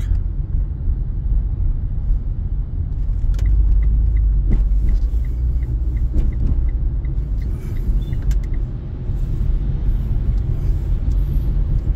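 A truck on the road passing close by, making a loud, continuous low rumble that swells and holds for several seconds with a few faint clicks over it.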